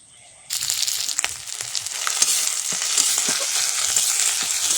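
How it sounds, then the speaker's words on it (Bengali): Ginger, garlic and onion paste drops into hot oil and sizzles steadily from about half a second on, a loud close frying hiss with faint stirring scrapes. "আদা রসুন পেঁয়াজটা ভালো করে ভেজে নেব।"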